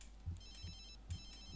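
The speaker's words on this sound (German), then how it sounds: "Jetzt klingelt sein Handy" A mobile phone rings in The Sims 3, with short bright electronic ringtone bursts repeating in a quick pattern, fairly faint and without talk.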